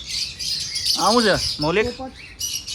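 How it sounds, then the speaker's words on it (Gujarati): Parrots and lovebirds squawk and chirp in an aviary at Sundarvan zoo in Ahmedabad, two loud harsh calls standing out over a thin high chatter, with people talking nearby. "અલગ અલગ જાતના પોપટો દેખાય છે અત્યારે તો, બીજું કંઈ નહીં. જો આ બધા લવ બર્ડ્સ લાગે છે."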